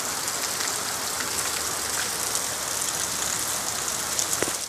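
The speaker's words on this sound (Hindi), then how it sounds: "ये बारिश रुकने का नाम नहीं" Heavy monsoon rain pours steadily on the road to Solan, a dense, unbroken hiss of drops striking surfaces close by, with scattered sharper splats and no voices.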